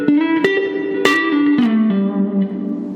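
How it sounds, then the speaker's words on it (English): Electric guitar notes played through a hall reverb pedal with generous pre-delay, single plucked tones ringing out one after another with long, lush tails that overlap and decay smoothly. "Here's the Verb with like a nice amount of pre-delay."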